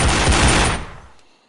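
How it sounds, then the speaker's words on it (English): A loud, close burst of rapid gunfire rings out at a shooting range in a VR video game, then fades into a short echoing tail. "always come drunk to a gunfire range"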